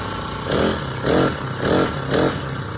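A small two-stroke gasoline grass trimmer engine revs in four even bursts about half a second apart, rising and falling over a steady idle, close by with no talking.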